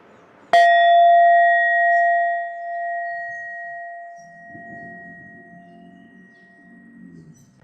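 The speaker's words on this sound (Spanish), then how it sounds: "voy a tocar la campana una vez para comenzar la meditación" A meditation bell is struck once to open a session, giving a bright, clear ring that fades slowly over several seconds into near silence.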